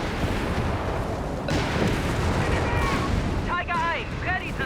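Bursts of gunfire from many guns in the strategy game Company of Heroes 3, a dense continuous battle din with rapid shots and some whistling tones, loud throughout.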